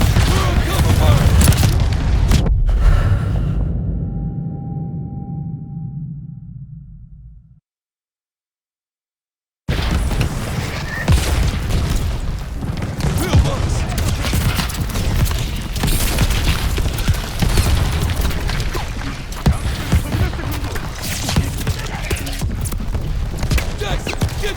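Gunfire and explosions in a World War II pillbox assault in Call of Duty: Vanguard: a heavy boom at the start decays into a rumbling tail, then a brief silence gives way to continuous loud battle noise with crackling shots.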